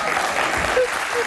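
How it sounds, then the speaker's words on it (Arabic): Studio audience applauding on an Arabic talk show, a short steady wash of clapping filling the whole moment at moderate loudness with no voice over it. "<تصفيق"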